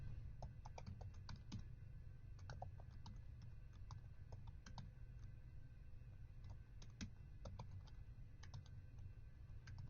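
Computer keyboard keys clatter in irregular quick bursts as someone types raw HTML, close and fairly quiet against a low steady room hum, with short pauses between flurries of keystrokes.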